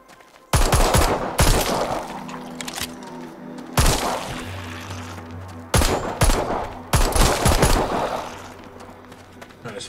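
Pistol shots fired in the zombie shooter game Arizona Sunshine, four loud sharp cracks each trailing a ringing decay, spaced a couple of seconds apart over a low game ambience.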